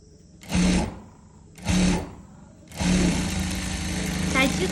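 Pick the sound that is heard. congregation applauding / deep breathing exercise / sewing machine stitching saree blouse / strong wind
sewing machine stitching saree blouse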